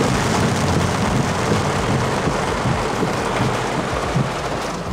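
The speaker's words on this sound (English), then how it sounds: "It is raining really hard out here today" Heavy rain pours down with a dense, steady hiss, close and loud, mixed with a low rumble throughout, heard around a BMW G87 M2.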